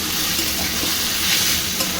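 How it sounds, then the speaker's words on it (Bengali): Taro stolons (kochur loti) fry in oil for a shrimp curry, giving a loud, close, continuous sizzle that hisses evenly throughout the short stretch without any talk. "এটাকে আমি তেলের মধ্যে একটু ভেজে নেব"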